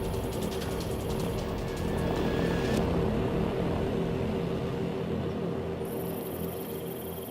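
A steady, dense mechanical whirring drone from a hovering military drone fills the whole stretch at constant loudness, with a faint chattering texture and no voices.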